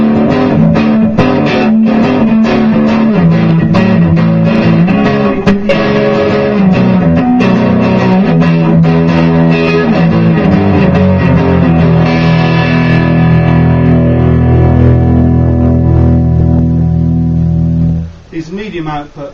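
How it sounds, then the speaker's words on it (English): An Ibanez FR2620 Prestige electric guitar on its medium-output neck humbucker, with moderate classic-rock distortion, plays a chordal riff with sustained notes, loud and close, ending in a ringing chord that fades. "These medium output humbuckers, so sort of medium distortion, classic rock"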